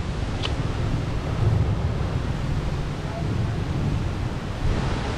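Strong wind buffets the microphone beside the ocean, a continuous loud rushing roar with surf blended underneath and a faint voice briefly in the background.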